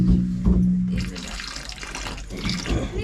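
Water is poured from a lota to wash a flag pole, a steady close splashing and trickling flow that runs almost the whole time, loud and with no talk over it.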